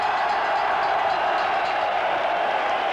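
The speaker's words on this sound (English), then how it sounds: "We'll let the crowd tell you the final story as the bell sounds" A boxing arena crowd roars steadily and loudly as the final bell ends a light heavyweight title fight, a dense, unbroken wash of cheering.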